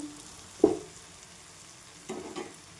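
Ground masala of coriander powder, red chili powder, salt and turmeric is fried in a pan, with a soft sizzle and a couple of brief stirring scrapes.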